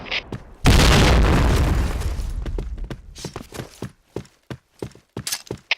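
A grenade blast in the online shooter Point Blank: one loud, close boom with a broad burst that decays over about two seconds, followed by scattered sharp clicks and clacks of in-game action.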